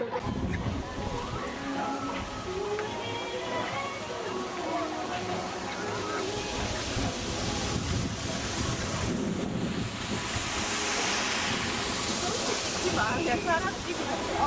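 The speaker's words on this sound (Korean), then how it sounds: "바람." Strong wind gusts outdoors on a family outing to Gyeongju World, a steady loud roar buffeting the microphone throughout, with people talking faintly underneath.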